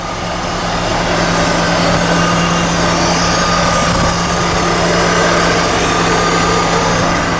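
A 2003 BMW 325i's 2.5-liter straight-six engine runs steadily at idle nearby, a smooth continuous hum with a low droning tone and no voices.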